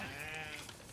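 Sheep bleating on a Tudor-era monastery farm, a single sustained, wavering bleat close by that fills the whole moment with no talk over it.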